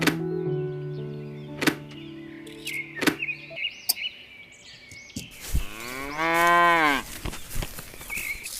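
Cows on a farm diorama, several drawn-out moos one after another, close and clear, with a few light knocks and thuds between them.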